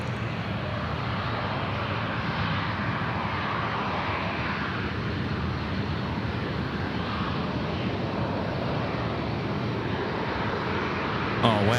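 Airliner jet engines roar steadily at Sydney Airport at night, a broad continuous rumble with wind noise on the microphone and people talking over it.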